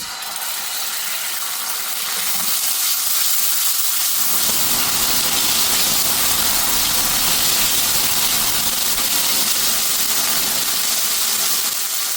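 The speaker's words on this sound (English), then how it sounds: "Little oil to the pan, and we're going to fry off our ginger and garlic paste." Ginger and garlic paste hitting hot oil in a pan, a loud, sustained sizzling hiss that jumps in intensity after a few seconds and keeps crackling steadily to the end, with no talking.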